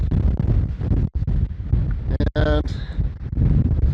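Gusty wind buffets a microphone on the exposed summit of Windy Peak in Nevada's Rainbow Mountain Wilderness, a heavy, uneven roar that surges and drops, with someone briefly speaking over it.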